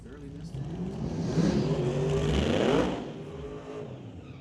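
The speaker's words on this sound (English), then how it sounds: "So Chris Gould, the nice burnout over there in the right-hand lane, Lordco lane." A 2017 Camaro does a burnout at a drag race, its engine swelling to a loud roar for a couple of seconds before easing off, with an announcer talking over it.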